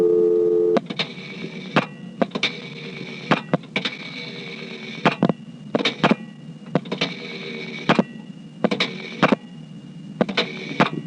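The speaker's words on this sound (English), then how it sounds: "I'm now using ringback without the director." Ringback tone on a 1973 step-by-step telephone exchange in Dale City, Virginia: a steady tone cut into repeated on-off bursts and punctuated by sharp relay clicks, loud and close throughout.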